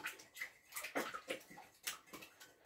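A whisk beats a milk mixture for a smoked trout tart, giving quick, faint, rhythmic sloshing and tapping strokes against the bowl with no talking.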